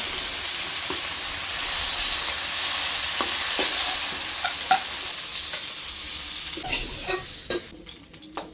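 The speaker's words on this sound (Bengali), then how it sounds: "এখন আমার মাছগুলো ভাজা হয়ে গিয়েছে" Fish fries in oil with a loud, hissing sizzle that fades toward the end, followed by scattered spatula taps and scrapes, close and without talk.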